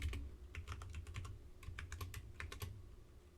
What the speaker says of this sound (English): I will type print space hello world.